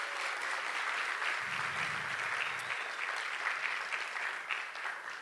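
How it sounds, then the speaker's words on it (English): Applause fills a theater at a community State of the North County event: a continuous, even wash of many hands clapping, with no one speaking over it. "Give them a round of applause as well."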